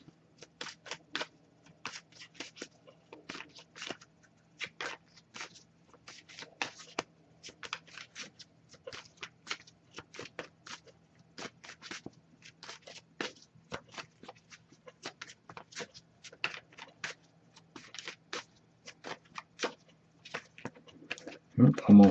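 Tarot cards being shuffled by hand, a steady run of quick, crisp riffling bursts close to the microphone, continuing evenly with a faint low hum underneath.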